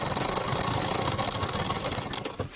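A sewing machine runs a second line of stitching over the first to make a double seam in fabric. Its motor whirs steadily and closely at an even speed, slowing and stuttering briefly at the end.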